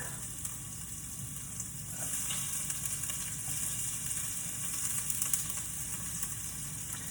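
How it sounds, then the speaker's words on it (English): A steady, quiet sizzle of ginger and garlic frying in a pan, continuous hiss with a low hum underneath and no talking. "Hear that sizzle?"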